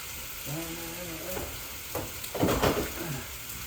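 Sauce sizzles in a small pan, a close frying hiss with a couple of louder bursts from stirring. A voice briefly murmurs over it.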